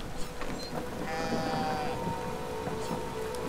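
Sheep bleating in a video game, a drawn-out call standing out over a steady rain-like background hiss, fairly close and clear.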